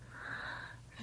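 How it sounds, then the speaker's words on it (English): Dog panting quietly in the background of a still, early-morning room, a steady breathy wheeze running through the whole moment with no talk over it. "The only other one awake right now is the dog, so you might hear him panting in the background."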